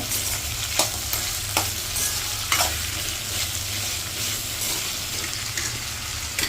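Anchovies sizzle steadily in a hot pan while a utensil stirs and scrapes, with a few sharp clinks against the metal.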